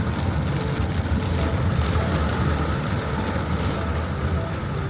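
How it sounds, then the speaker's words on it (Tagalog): Heavy rain pours down on a moving car, a dense steady hiss and drumming over the low rumble of the road, constant for the whole stretch with no talking. "biglang bumuhos yung malakas na ulan"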